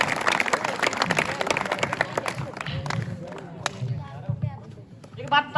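A crowd of teachers at a school stage event claps to welcome guests, giving a dense, continuous patter of applause with a voice speaking over it.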